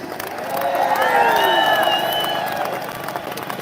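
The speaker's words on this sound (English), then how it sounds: "Let's have a massive cheer for Peter Lynch." A crowd at a London street march cheers loudly and steadily for a few seconds, with whistles and shouts rising over the roar before it gradually fades.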